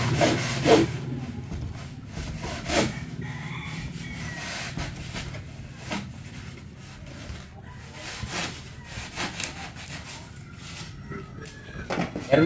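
A handsaw rasps through wood in quick, repeated back-and-forth strokes, fairly close and moderately loud, with faint voices and workshop background in between.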